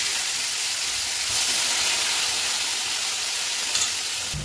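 Fish frying in hot oil, dhaba style, gives a loud, steady hissing sizzle that stays even throughout, with slight swells in intensity and no voices.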